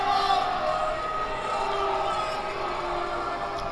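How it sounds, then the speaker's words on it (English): Crowd booing in the WWE 2K18 wrestling video game, a steady loud arena roar of many voices sustained throughout. "Crowd is booing them."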